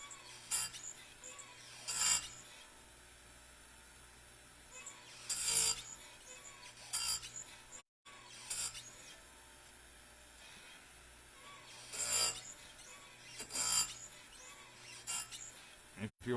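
A chainsaw chain's rakers are hand filed down close up, short rasping strokes coming in irregular bursts over a quiet mechanical background.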